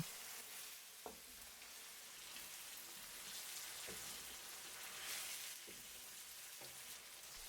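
Rice grains frying in olive oil with paprika give a steady sizzling hiss, with a few soft clicks of stirring spaced through it. There is no talking.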